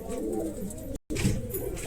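Pigeons kept by a breeder in Dharwad coo in low, rolling calls, loud and close, layered together with a brief dropout to silence midway.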